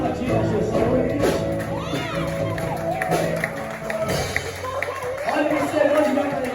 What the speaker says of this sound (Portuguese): Que pode aplaudir a Jesus.